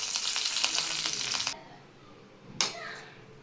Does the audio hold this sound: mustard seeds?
yes